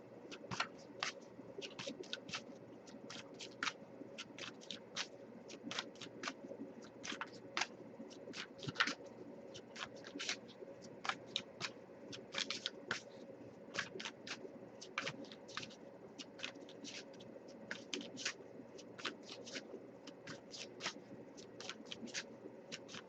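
Oracle cards are shuffled by hand for a long stretch, giving a quiet, steady stream of soft riffling clicks and papery snaps over faint background hiss.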